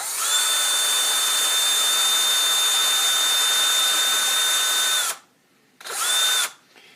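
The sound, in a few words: small drum sander sanding a stunt helmet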